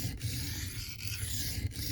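Steel blade stroked across a 400 grit Benchmade diamond sharpening plate under light hand pressure, giving a steady close gritty rasping with faint rhythmic stroke breaks.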